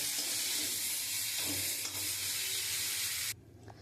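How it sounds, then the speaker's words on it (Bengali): Water poured into a pan of simmering green banana and papaya vegetable curry gives a steady close sizzling hiss that runs on, then cuts off abruptly near the end, leaving faint quiet. "আমি এবারে জল দিয়ে দেবো"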